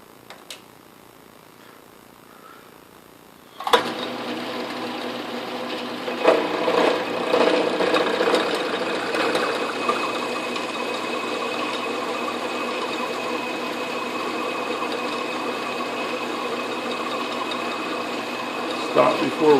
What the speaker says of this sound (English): Come back in with the cutoff tool.